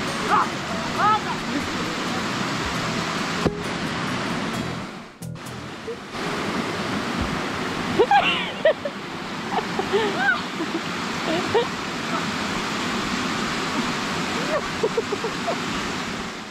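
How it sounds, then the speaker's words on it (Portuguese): A waterfall in the Serra do Papagaio, Minas Gerais, Brazil, gives a steady, even rush of falling water that fills the whole clip, with a few faint knocks and clicks over it. "Ali o refúgio, aqui a cachoeira."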